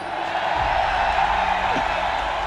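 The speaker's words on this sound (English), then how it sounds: "Let's hear the TSM fans here" A crowd of TSM fans cheering at a League of Legends esports event, a steady, broad roar of voices and whoops filling the whole stretch at fairly high level.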